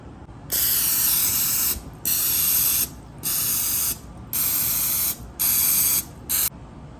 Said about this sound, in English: let's go ahead and spray these muffin tins generously with a non-stick cooking spray